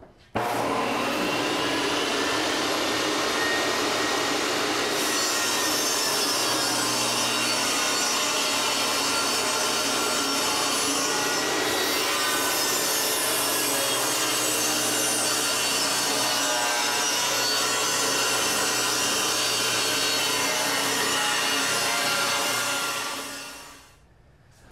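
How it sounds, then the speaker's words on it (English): A table saw cuts a dado into a 2x4 on the board's rough side: a loud, steady whining and rasping cut that runs unbroken for about twenty-four seconds, then quickly winds down. "we'll cut the dado on the rough side"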